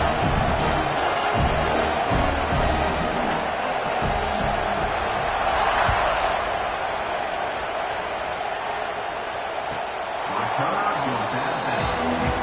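A college football stadium crowd roars in a steady, dense wash of cheering that swells slightly midway, with a commentator talking over it throughout.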